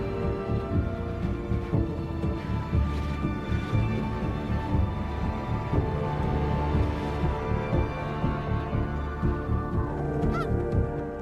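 A flock of migrating geese honking repeatedly, with overlapping calls and a constant low drone throughout.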